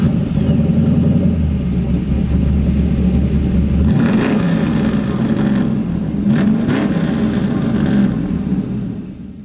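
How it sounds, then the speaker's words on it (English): A 1967 Chevrolet Camaro SS with an LS3 engine runs steadily nearby, a deep low rumble that holds at a constant level throughout with no clear revs and no talking. "one of the first things I do when I get into one of these cars is just listen on how the car sounds"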